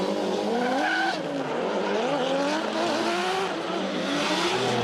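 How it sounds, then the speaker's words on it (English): A drift race car engine screams loudly and continuously, pitch rising and falling through gear shifts, with tire squeal and a roaring crowd-like wash behind it. "that car of Beau's sounds absolutely nuts"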